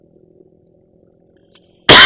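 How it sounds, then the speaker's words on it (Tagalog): A single sharp cough bursts out at the very end after near silence, loud and close, with faint low background hum before it. "inuubo ko"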